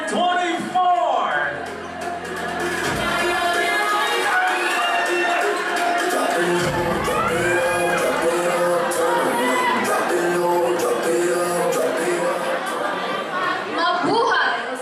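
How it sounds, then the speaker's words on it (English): A pageant audience at a mall gives a candidate sustained crowd noise, with cheering, whoops and chatter filling the whole stretch at steady loudness, and a voice over a loudspeaker breaking through early on. "Okay, a round of applause."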